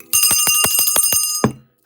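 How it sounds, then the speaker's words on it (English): A small bell is struck about seven times in quick succession, bright metallic rings with one final louder hit that fades out. "Let me ring the bell."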